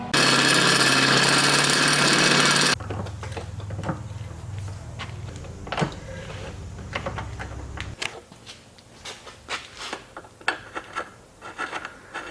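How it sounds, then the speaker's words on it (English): A loud, steady power drill whine drilling an 11/16 hole in a metal oil pan runs alone for nearly three seconds, then gives way to a lower grinding hum with scattered clanks and taps nearby. "I'm going to drill this to an 11/16 and then tap it out"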